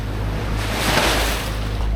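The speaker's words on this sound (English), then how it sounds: "Oh wow, look at these waves, pretty big." Fairly big waves wash and rush around a sailboat motoring across Chesapeake Bay, a loud continuous surge mixed with wind buffeting the microphone.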